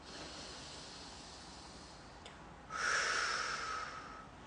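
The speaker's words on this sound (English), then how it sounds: "Breathe in my nose." Someone draws one long, audible breath in through the nose, a brief hissy intake followed by a louder, sustained airy sniff lasting about two seconds, close to the microphone and with no talking.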